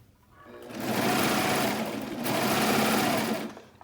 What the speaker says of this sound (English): turn at a 90-degree angle, and serge off.